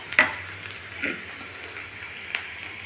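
Onions frying in a pan for a drumstick fry dish, a soft steady sizzle with a few brief stirring clinks, quiet and close, no voices.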